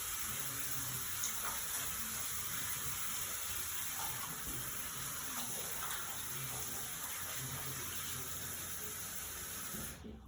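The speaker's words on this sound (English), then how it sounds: "And then we're going to rinse them off." A tap runs steadily as hands are rinsed under it during a health-clinic hand hygiene routine, a close, even rush of water that stops abruptly at the end.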